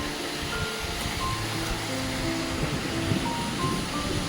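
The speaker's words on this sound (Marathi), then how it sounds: "धबधबे सर्व ओसंडून वाहत आहेत" Monsoon-swollen waterfalls in the Sahyadri hills near Mahuli fort pour in heavy rain, a dense, constant roar of rushing water that fills the whole space, with no voices.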